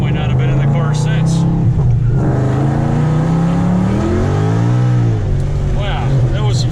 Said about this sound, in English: Wow, that was some serious wheel spin.